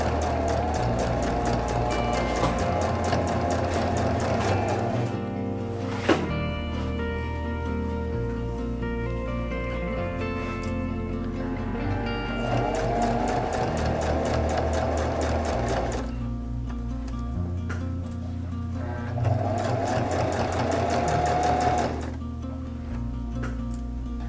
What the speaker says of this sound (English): Back stitch and sew.